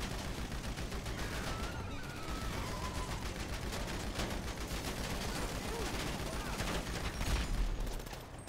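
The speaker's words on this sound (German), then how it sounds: "Wir werden beschossen." Gunfire strikes a car during a GTA V Online shootout, heard as a dense, steady rattle of shots that keeps going the whole time, fairly quiet and swelling slightly near the end.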